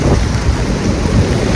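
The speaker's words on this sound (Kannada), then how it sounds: "ಮಳೆ ಬಪ್ಪಕ್ಕೆ ಶುರು ಆಯ್ತು. ನಾವೆಲ್ಲ ರೀಚ್ ಆಗ್ಬೇಕು." Rain starting at Kodi Beach in Kundapura, a dense, loud, continuous rush of downpour with a low rumbling undertone, steady and close with no voices.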